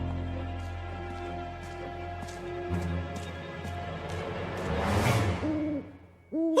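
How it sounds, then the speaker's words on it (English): Cartoon owl hooting in the Bob the Builder animated series, a few soft, repeated hoots over a music and effects bed with a swelling whoosh, no talk. "No, that's just an owl, Lofty."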